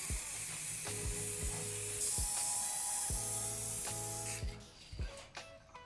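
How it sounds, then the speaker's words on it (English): A can of Einstar 3D scanning spray hisses in a broad, steady blast that runs for several seconds, then tapers off into a few short bursts near the end, with faint clicks and knocks underneath. "So this stuff is scanning spray made by Einstar."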